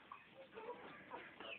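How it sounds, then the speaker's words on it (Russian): Hens settled in a freshly whitewashed coop with sawdust bedding cluck softly. Faint, scattered clucks sound close over a low room hiss, with a little murmuring. "Курицы."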